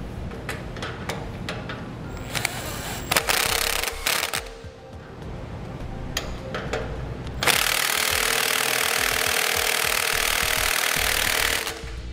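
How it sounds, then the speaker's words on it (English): An impact wrench tightens the nut on a trailer axle spring eye bolt, loud close buzzing bursts with short gaps, ending in a long sustained hammering run. "We're going to tighten this down using the nut side only."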